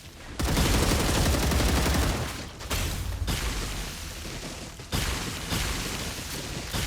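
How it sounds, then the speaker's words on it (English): Rapid-fire mortars in StarRupture, a dense, continuous barrage of loud booming blasts in long rolling bursts with brief gaps, heavy and close throughout. "Like rapid fire mortars that track you."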